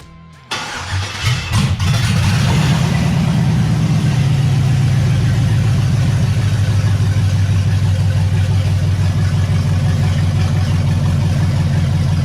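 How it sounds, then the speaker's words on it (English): An LS V8 swapped into a 1988-98 Chevy/GMC OBS truck cranks briefly and fires up for the first time, then settles into a loud, steady, close idle with a low rumbling drone. "we're gonna fire it up for the first time."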